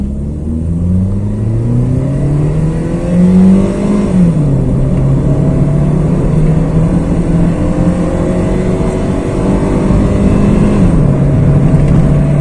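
A Honda Jazz pulls away from a traffic light, its engine revving up through the gears in rising and falling sweeps, loud and close from inside the cabin, with no talk over it.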